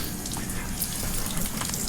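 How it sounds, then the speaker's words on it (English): Water from a garden hose flows out of a mini jet boat engine during a water loss check, a steady, close rushing gush with a constant hiss and no pauses or voices. "There's plenty of water coming out."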